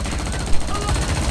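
Rapid gunfire from the video game XIII, a fast rattling burst of shots in one short stretch, with someone talking over it.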